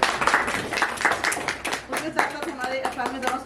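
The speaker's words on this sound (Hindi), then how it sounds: "उनके लिए एक जोरदार ताली बजा दें" Audience at a charity gathering applauds in a moderately loud, uneven flurry of claps, with a voice talking over the clapping throughout.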